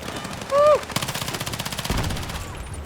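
Rapid automatic gunfire in Battlefield 6 rattles in a fast, steady burst close by, preceded by a short in-game tone and ending with a heavier blast.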